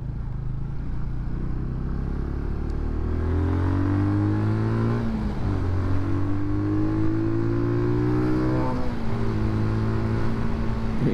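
A small Benelli Leoncino motorcycle engine drones steadily nearby, its pitch climbing and dropping through several revs over a constant low rumble.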